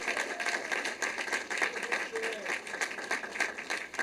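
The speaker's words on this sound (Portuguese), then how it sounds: "Muito emocionada, ela recebeu a vacina ao som dos aplausos." Applause from onlookers as a woman receives the Coronavac vaccine, steady moderate clapping lasting throughout with talk and voices mixed in underneath.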